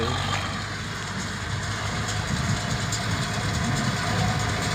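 A steady, rumbling diesel engine drones continuously with mechanical clatter, a tractor pulling a hay baler at a moderate distance.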